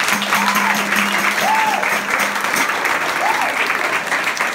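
Crowd applause at an outdoor capoeira gathering on a farm, loud, sustained clapping from the audience filling the whole stretch, with faint voices and brief cheers mixed underneath.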